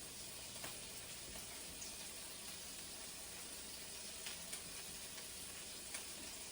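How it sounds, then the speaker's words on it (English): Meatballs brown in a pan with a soft, steady sizzle and hiss that stays faint and even throughout, with a few tiny pops and no voices. "While the meatballs are browning up"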